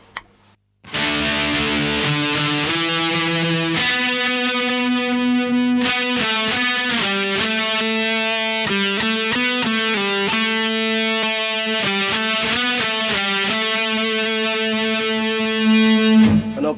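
An electric guitar fed through an Electro Harmonix Pitch Fork pedal with the detune effect on plays a loud, thick, shimmering distorted riff of shifting chords that runs steadily for about sixteen seconds.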